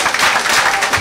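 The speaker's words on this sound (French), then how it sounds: "Il y a un gros applaudissement pour le député Tadieu" A crowd in Queens welcoming a visiting Haitian deputy breaks into brief, dense applause, a loud burst of clapping lasting about a second.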